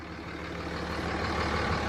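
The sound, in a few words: pickup truck running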